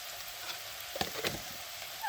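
Onions sizzling as they fry in a pan, a faint steady hiss with a few soft stirring clinks and scrapes near the middle.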